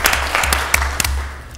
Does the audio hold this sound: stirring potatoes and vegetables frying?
no